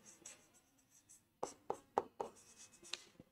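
Chalk or marker taps and strokes on a classroom board during a chemistry lesson, four or five crisp hits in a quick rhythm, faint and close.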